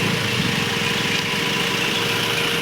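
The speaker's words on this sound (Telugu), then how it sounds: "ఇంజన్ బీటింగ్ కూడా స్మూత్గా నీట్గా ఉందండి" Used car engine idling with a smooth, even rumble and a steady low beat, close by and continuous.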